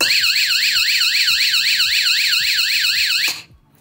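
A loud electronic power outage alarm siren wails continuously in a fast rising-and-falling warble, then cuts off abruptly near the end, leaving a quiet hum.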